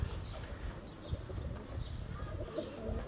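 Pigeons kept as a pair for flying competitions coo softly and repeatedly amid faint chirps and low rustling, quiet and fairly close.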